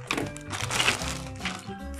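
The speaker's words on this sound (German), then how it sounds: "Also hier ist meine Schere und ich schneide die Tüte jetzt einfach mal auf." A plastic bag from a Playmobil pharmacy set being cut open with scissors, giving close crinkling and rustling plastic with a few snips over about two seconds.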